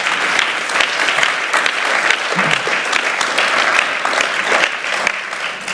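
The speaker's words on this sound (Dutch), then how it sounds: "Dat is al een applaus waardig" An audience at a master's graduation ceremony applauds in a loud, sustained burst of many hands clapping, dense and even from start to finish.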